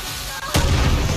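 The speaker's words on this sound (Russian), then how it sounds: "Минометный удар." In Far Cry New Dawn, a sudden heavy mortar blast bursts out after a moment of hiss, then a deep rumbling boom lingers and rolls on.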